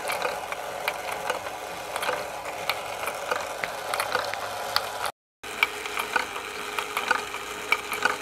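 Small battery motor spinning a rotary ball bearing module, a steady close mechanical whir with a fast ratcheting rattle and gear-like clicking running continuously, with one brief dropout midway.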